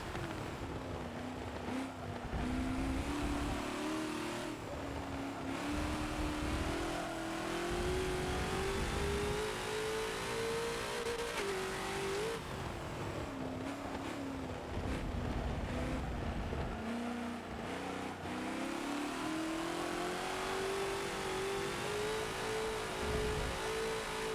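A TNT GT40 race car engine in Forza drones steadily at Mugello track, its pitch climbing and falling through upshifts and corners, loud and continuous with no talk.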